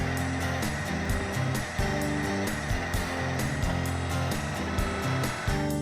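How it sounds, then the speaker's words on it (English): A food processor blends a peanut butter vegetarian meatball batter, a loud steady motor whir with a repeating pulsing rhythm as the blade churns the mixture, running continuously for several seconds. "So now the food processor's made everything nice and smooth."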